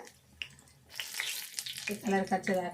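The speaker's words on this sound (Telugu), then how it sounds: "రెండు సైడ్లు కూడా ఇట్లా కాలనియాలి." Food fries in a pan and is browned on both sides, with a crackling sizzle that swells midway, then a voice speaks over it toward the end.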